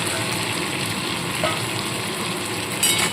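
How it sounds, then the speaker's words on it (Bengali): Cashews being stirred into onion and tomato frying in a pan for restaurant-style chicken korma, a steady close sizzle with faint scraping, no voices. "কাজু বাদাম দিয়েও একটু ভালো মতো নাড়াচাড়া করে নেব"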